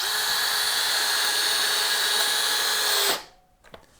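A Makita 40V XGT drill drives a 3-inch Spax screw into wood under MDF, whirring loudly and steadily for about three seconds before stopping abruptly, followed by a faint click.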